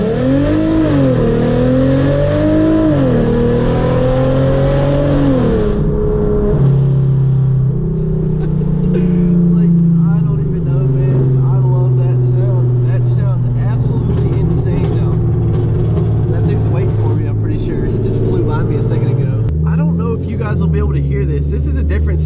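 A Hyundai Genesis Coupe with traction control off revs loudly in a first gear pull to about 3,000 rpm, the engine note wavering and climbing at first, then settling into a steady, throaty drone close by.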